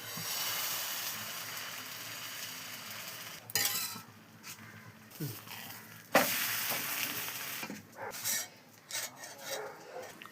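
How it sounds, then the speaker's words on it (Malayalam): Wheat dosa batter sizzling on a hot pan, with a steady hiss at first that turns into intermittent scraping and spreading sounds, close and moderately loud. "പാൻ ചൂടായിട്ടുണ്ടെങ്കിൽ മാവ് ഇട്ട് കൊടുക്കാം"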